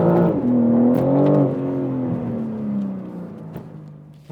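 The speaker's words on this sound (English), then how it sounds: "the car starts piping in fake noise into the cabin, fake engine noise through the speakers" Synthetic engine sound piped through the cabin speakers of a 2021 BMW M3 Competition G80, a smooth rising and falling drone with revving swells, heard from inside the car without talk.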